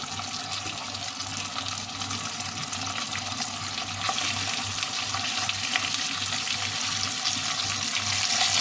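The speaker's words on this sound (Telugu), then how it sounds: "దీన్ని ఫ్రై చేసుకోవాలి" Boiled chicken pieces frying in a pan for an Arabian chicken kabsa, a continuous close hiss and sizzle with steady loudness throughout.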